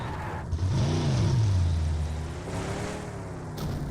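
A vehicle engine in a video game revs up and then winds down with a swooping pitch, a mid-range motor drone heard fairly quietly under faint game ambience.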